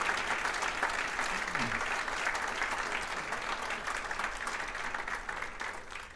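An audience at a regional civic event honoring Congresswoman Maxine Waters and Congressman Ted Lieu keeps up dense, sustained applause, a steady roar of many hands from a large crowd with a brief voice in the middle.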